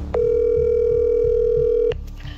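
A telephone gives one loud, steady electronic tone lasting nearly two seconds before cutting off abruptly, with nothing else heard.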